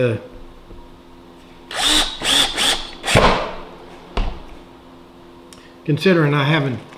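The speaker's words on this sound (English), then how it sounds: "What I'm doing here is putting pilot holes into this lip here" A power drill bores pilot holes into a lip, running in several short whirring bursts with brief pauses between them and a final longer burst, loud and close.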